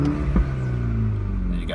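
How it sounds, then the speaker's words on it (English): A MINI Hatchback's exhaust in track mode rumbles as the engine revs briefly, a deep steady roar close by with a short rise, alone. "We're going to give the car a little rev so you can hear the exhaust for yourself."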